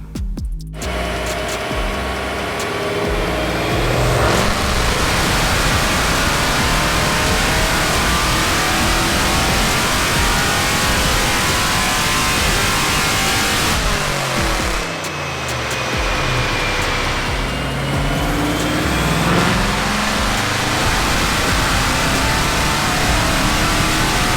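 Whipple-supercharged Dodge Challenger running on 93 octane with an MSD Boost-a-Pump, its engine revving hard and loud through a tuning run, with rising and falling pulls and a brief dip midway.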